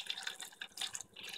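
Water poured over three tomatoes, two dried chillies and a small onion in a bowl, a faint, close splashing and trickling over about a second, with no talking.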